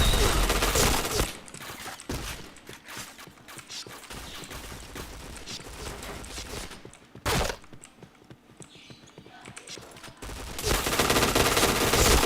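Rapid automatic gunfire in a shooter video game crackles in dense, loud bursts with sharp individual shots, nearly continuous across the stretch, without clear talk over it.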